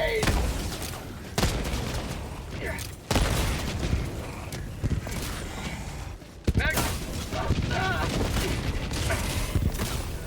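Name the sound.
grenade explosion and gunfire in a video game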